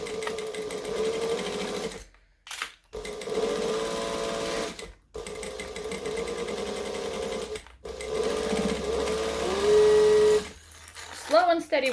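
A domestic sewing machine stitches steadily around a fabric bag, its motor whirring in long close runs broken by short stops as the seam turns, with a brief spoken moment near the end.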